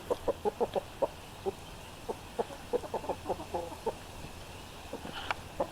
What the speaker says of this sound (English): Hey, rooster.